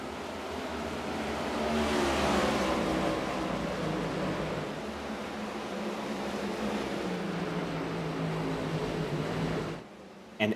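Race cars accelerating hard on a green-flag restart at Rockingham during an Integrity Octane Series round, a loud, sustained engine roar that peaks early, holds steady, then cuts off abruptly near the end.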